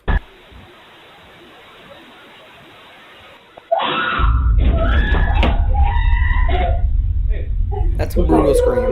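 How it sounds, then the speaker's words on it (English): A loud scream bursts out partway through a scary video, following a quiet stretch, and is followed by continued loud vocal commotion and noise. "That's a brutal scream."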